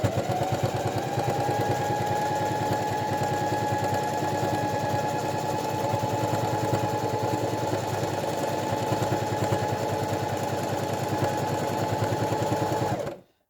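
Sewing machine stitching down the middle of an envelope cushion cover, running in one steady, rapid, evenly pulsing whir for about thirteen seconds before stopping abruptly, close and alone.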